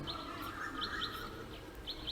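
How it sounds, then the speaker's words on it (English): Birds chirp in the city of Mumbai, with short, high tweets repeating in small bursts over a steady background hum, moderately faint and with no voices. "The air is clean, birds are chirping, and the trees are vivid green."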